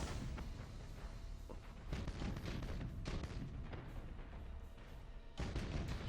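Warship weapons fire in Battlefleet Gothic: Armada, a dense string of loud, rumbling booms and cannon blasts that repeats steadily throughout, close and heavy.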